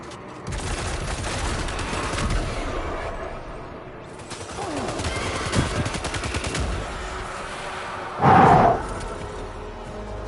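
Assault rifle fire from a warrior in the video game Death Stranding, with sustained rattling gunfire and scattered shots over an ongoing outdoor game soundscape, plus one louder burst near the end.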